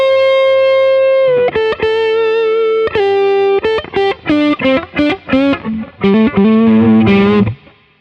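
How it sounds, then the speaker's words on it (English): An electric guitar runs through an Origin Effects RevivalDRIVE overdrive pedal set for a ghost tone, with sustained distorted chords and then a run of choppy, rhythmic stabs and short bursts that grow busier, loud and close without talking. "I've got this dialed in for an overdrive with a ghost tone."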